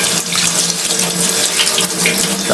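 Tap water runs steadily and close while a gutted flounder is rinsed clean of blood and dirt in a sink, a continuous splashing hiss with no talk.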